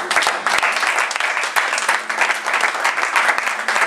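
A church congregation breaks into loud, sustained applause with scattered cheering in praise of God, dense clapping filling the space evenly from start to finish.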